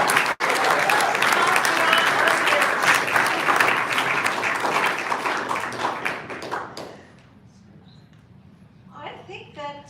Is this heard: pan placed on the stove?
no